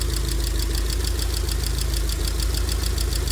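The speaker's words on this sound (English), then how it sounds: "I cannot hear any obviously bad sound from the engine, apart from a couple of tappets that's lacking a bit of oil pressure." A car engine idles close by with a couple of tappets short of oil pressure, giving a fast, even ticking over a steady mechanical hum, with no voices.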